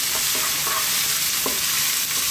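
Garlic and butter frying in a pan, seasoned with black pepper and salt, give off a loud, continuous hiss and sizzle with soft intermittent stirring scrapes, and no voices.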